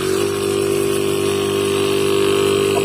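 Refrigerator compressor motor hums steadily after being connected to power, a loud, continuous electric drone with a strong tonal pitch that holds evenly throughout without pauses.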